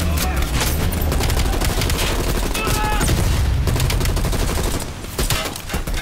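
Dense automatic gunfire from Call of Duty Black Ops Cold War, a continuous loud fusillade of rapid shots and booms that eases briefly near the end before resuming.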